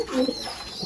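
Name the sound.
pigeons feeding their chicks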